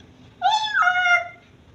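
A person mimics a cat's meow, a drawn-out whiny mew with a bend in the middle, fairly close and clear.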